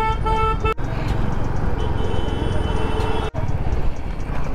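Dense Delhi traffic rumbles close by while vehicle horns honk repeatedly, one long sustained toot early on and more beeps scattered through the steady engine drone.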